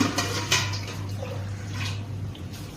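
Water runs steadily from a household tap in a home where clothes are loaded in a washing machine, a continuous rushing hiss with a low steady hum beneath it and no voices.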